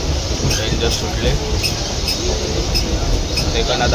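A local train pulls out of Thane station, a loud steady rumble of the moving carriage with rhythmic rattling clicks from the wheels, heard from a window seat inside the coach amid people talking.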